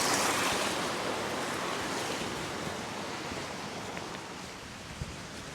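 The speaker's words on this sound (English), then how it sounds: "The wind's picking up a little bit" Steady gusting wind roars across an open Scottish mountain track, a broad, continuous rushing noise that stays loud and close throughout, with no voices.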